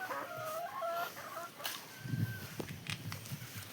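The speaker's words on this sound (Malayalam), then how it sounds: "ഇത് ഡെയിലി മുട്ടയിടുന്ന കോഴികൾ." Egg-laying hens at a small poultry farm cluck repeatedly in short, close bursts, with a rooster-like call and general coop noise filling the background.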